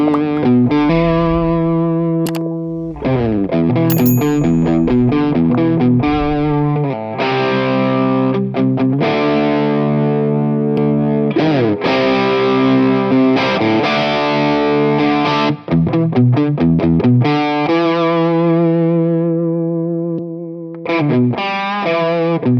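An electric guitar runs through a drive pedal stacked into a boost pedal, playing loud, sustained distorted chords and riffs with rich harmonics. It carries on continuously for the whole stretch, with brief pauses between phrases.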